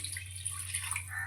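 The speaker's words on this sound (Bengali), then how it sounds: "দিয়ে দিচ্ছি জল, নর্মাল জল।" Water is poured into a pan of sautéed potatoes while cooking a fish curry, a short, soft trickle and drip over a steady low hum, with no talk.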